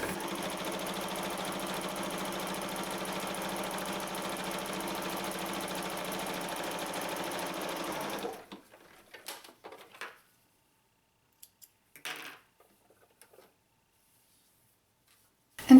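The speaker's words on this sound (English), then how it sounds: "We're going to sew really close to the edge." Sewing machine stitching close to the edge of a folded denim tab for a blue jeans purse, a fast steady whirring run for about eight seconds, then stopping, followed by faint scattered handling sounds and near silence.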